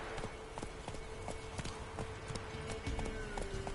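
Roach, a horse in The Witcher 3, gallops in a quick, even clip-clop of hooves that runs throughout, fairly quiet against a faint game backdrop.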